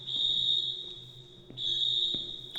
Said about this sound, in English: Alright, that alarm... Oh my god, I regret pulling that thing.